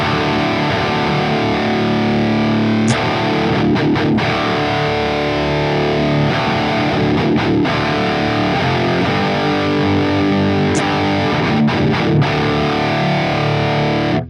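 Heavily distorted electric guitar through a Fortin NATAS pedal into a Marshall JCM-2000 amp, chugging and churning riffs played loud and continuous with brief stops and palm-muted stabs, no voices.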